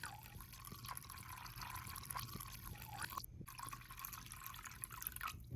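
Reducer pours into a mix of car paint for an E92 M3, a faint, continuous trickling and dripping of liquid with a soft hiss, brief drip pops scattered through it and no voice.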